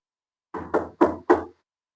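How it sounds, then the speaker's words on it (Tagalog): Four firm knocks on a door in a quick, evenly spaced sequence, close and loud, followed by silence. "Kumatok ka at dahan-dahan ka pumasok."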